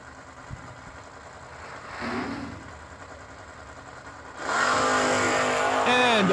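Buick Apollo and Blazer drag race cars at the New Year Nationals idle with a low rumble, then launch in a sudden loud, sustained roar with rising engine pitch that dominates the end.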